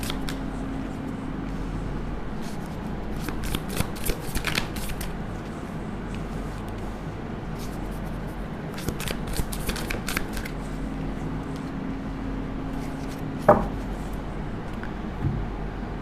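Tarot cards are shuffled in repeated quick riffling bursts, crisp and close, with soft handling noises between the bursts and no talk.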